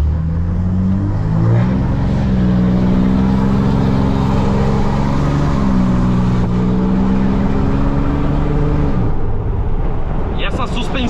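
A Ram 2500 pickup truck revs hard while its tires spin, a loud sustained engine roar that rises and shifts pitch before easing off near the end, with voices talking over it.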